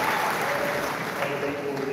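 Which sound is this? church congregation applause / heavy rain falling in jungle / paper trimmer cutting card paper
church congregation applause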